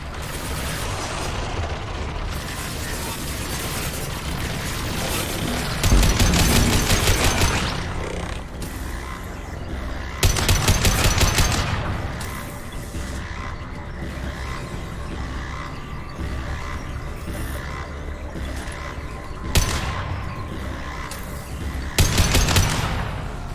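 Bursts of rapid automatic gunfire in the shooter game Mass Effect 2, several loud volleys spaced through a continuous noisy firefight with mechanical clatter between them.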